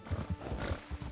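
Horse hooves clip-clopping in the Red Dead Redemption 2 video game, a steady trotting rhythm of soft thuds, fairly close and moderately quiet, with no voices.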